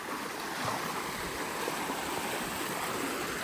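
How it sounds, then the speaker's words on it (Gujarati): Rainwater rushing fast along a village road in heavy rain, a dense, loud and continuous watery roar with no pauses and no voices. "પાણી કેવું આવે છે જોઈ લ્યો એકદમ પ્રેશરથી આવે છે"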